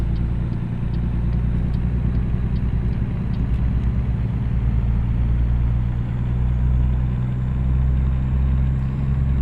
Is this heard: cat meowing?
no